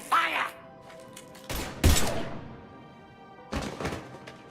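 Bursts of gunfire in the video game Mass Effect 3, three separate heavy volleys with sharp thuds and ringing tails, split by short quiet gaps.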